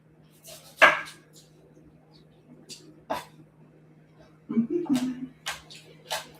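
A knife slices a red onion into thin half-moon pieces on a board, a few distinct sharp cuts standing out over a low steady hum, with quiet gaps between them.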